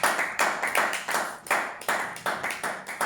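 A church congregation claps in a steady rhythmic beat during a Sunday worship service, loud, close and continuous, with no talking.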